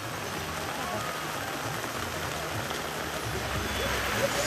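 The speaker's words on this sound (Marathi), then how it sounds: "पावसाच्या जोरदार सरी कोसळल्या" Heavy unseasonal rain pours down in a steady, dense hiss that stays loud and even throughout, with no distinct drops standing out.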